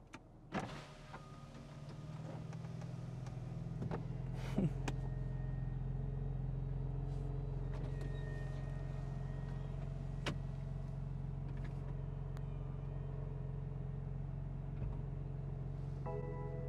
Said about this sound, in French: Le décapotage maintenant.